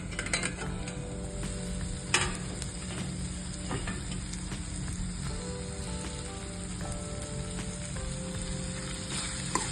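A pan of fresh peas curry (matar bhaji) cooks on the stove with a steady, close sizzle and bubbling, broken by occasional soft clinks of a spoon stirring it.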